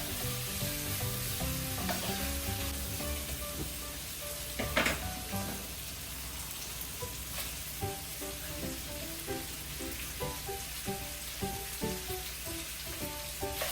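Food sautés in a pan with a continuous fizzing sizzle, moderate in level, broken by small scrapes and clinks of stirring, with no talking.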